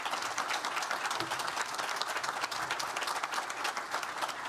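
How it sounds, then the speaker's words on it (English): A conference audience applauds steadily, dense clapping filling the whole stretch at an even, fairly loud level with no voices above it. "Let's continue the round of applause"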